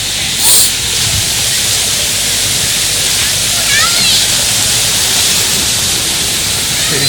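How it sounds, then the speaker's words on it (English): Small waterfalls at Diana's Baths in the White Mountains of New Hampshire rush in a steady, loud wash of water, close by and constant throughout. "There's some little waterfalls."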